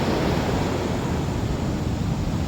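Strong ocean surf at Long Beach in Zambales roars continuously as a dense, broad wash of crashing water with wind buffeting the microphone, steady and loud, no voices.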